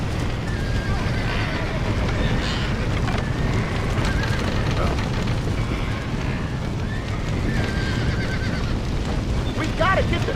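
A horse whinnies in a rural open-world action video game, the neighs repeating over steady game ambience with hoofbeats, while someone talks throughout.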